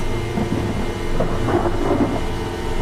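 A thunderstorm in a flight simulator game rumbles with low thunder and steady rain-like wash, wind gusting at 24 miles per hour, continuous and fairly loud without speech.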